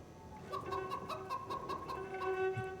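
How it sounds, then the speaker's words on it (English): Chickens cluck in rapid, repeated bursts over a steady tonal hum, moderately quiet and continuous throughout. "there are chickens! There are chickens!"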